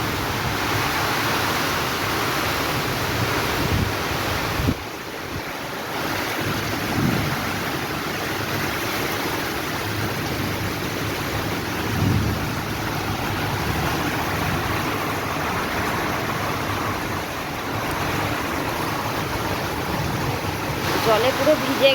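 Heavy rain pours onto a rooftop in a steady, dense hiss that fills the whole stretch, with a faint voice occasionally underneath.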